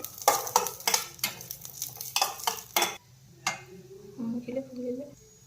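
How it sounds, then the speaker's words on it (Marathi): Chopped cashews, almonds and raisins fry in a pan with scraping stirs for the first three seconds, then a quieter sizzle while a voice talks briefly near the end. "मी इथे काजू बदाम व मनुके जे तुकडे करून घेतलेले आहे हे आपल्याला छान असे फ्राय करून घ्यायचे आहेत"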